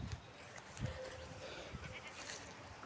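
Sheep and goats on a farm give a few faint, scattered bleats against a low, steady outdoor background.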